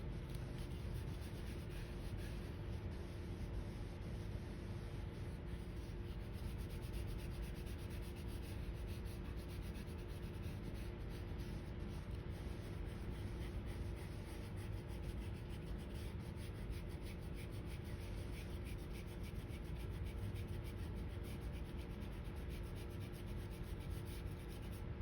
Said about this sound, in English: Notice I'm kind of erasing the lines I made for the circle.